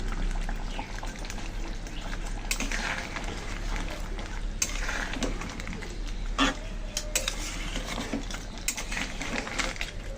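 A spatula works through a thick crab bhuna in a cooking pot, with roasted cumin-coriander powder and garam masala just added. Close, continuous scraping and stirring runs over a low bubbling sizzle, with a few sharper clacks against the pot.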